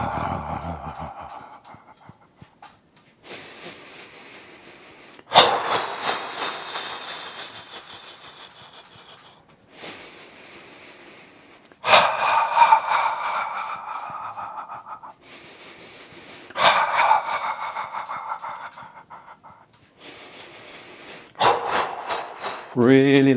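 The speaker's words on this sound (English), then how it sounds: "So you're breathing in through the nose." Several long, deep breaths are drawn in through the nose during a breathwork session, each a soft airy rush repeated at a slow, steady pace, spaced by quiet pauses and occasional sighing exhales, close to the microphone.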